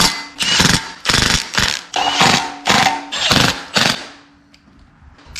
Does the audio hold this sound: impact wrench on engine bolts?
yes